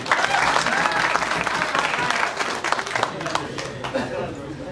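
Loud, sustained applause fills a hall at a Nepali film event, with dense clapping and crowd noise throughout and voices mixed in under it.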